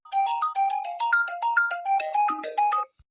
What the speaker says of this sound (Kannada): ಯಾರಪ್ಪ ಈಗ ಫೋನ್ ಮಾಡಿದ್ದು?